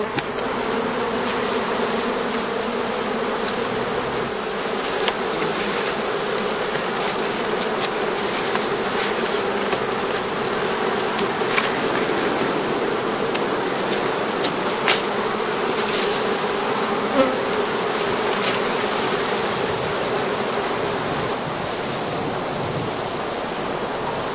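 Honey bees buzz steadily in a dense, close swarm at skeps in a heathland apiary during heather bloom, a continuous hum with no voices.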